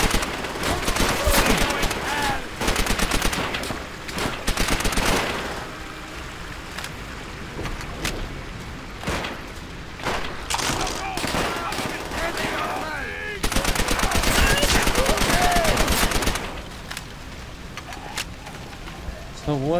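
Machine gun fire in Call of Duty: World at War, sustained loud rattling bursts with rapid repeated shots, layered with battle noise and shouted voices.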